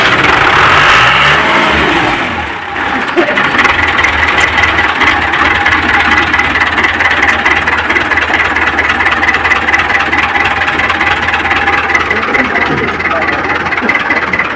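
Engine of a Model 640 tractor running steadily up close, a loud continuous mid-pitched rumble with a brief dip in level early on before settling into an even drone.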